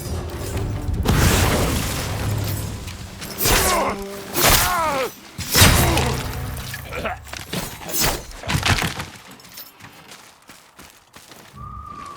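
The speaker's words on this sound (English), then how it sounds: "Atsu, your smoke bomb!" In Ghost of Yōtei, a smoke bomb bursts in a hissing, shattering pop amid a sword fight. Several loud whooshing bursts and clashes rise and fall, and scattered combat noise trails off.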